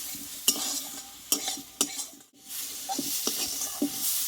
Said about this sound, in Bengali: এভাবে কিছুক্ষণ আমি একটু ভেজে নেবো এভাবে তেল নিয়ে